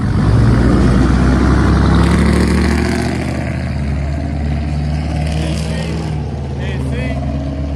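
A loud lifted truck engine revs hard and then settles into a rumbling idle, close by and heavy, with people talking over it.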